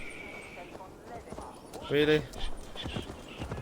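A horse in the video game Assassin's Creed Valhalla, with rhythmic clip-clop hoofbeats and a loud neigh partway through, heard under a man's brief speech.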